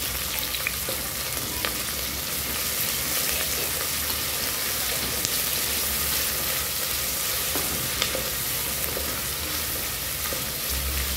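Chopped onions and ginger garlic paste frying in oil in a pressure cooker for veg biryani, a loud, steady close sizzle with occasional stirring scrapes throughout.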